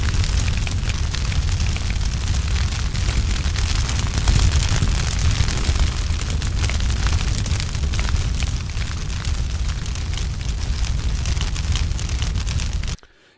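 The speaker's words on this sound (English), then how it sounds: "vary the fire as a building burns. You know, so it starts out, you know, a little bit more soft, gets violent, and then gets soft again" A sound-design fire effect for a burning building roars steadily and loudly throughout, a dense crackling, rumbling blaze that swells and eases slightly in intensity before stopping abruptly at the end.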